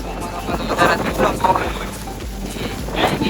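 Strong wind gusts blow outdoors at a hidden nature camping spot, a steady rumbling buffet on the microphone with louder surges, while people talk nearby.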